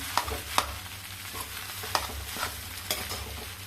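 Chickpea samosa stuffing is stir-fried and mixed in a pan, a soft continuous sizzle broken by several sharp spatula scrapes and taps at uneven intervals, with no talking.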